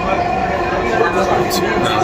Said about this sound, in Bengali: আমরা ট্রেনের ভিতরে আছি